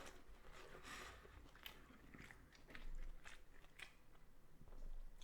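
Crunchy bites and chewing on a crusty baguette, close and quiet, with irregular crackling crunches spread over a few seconds and no talk.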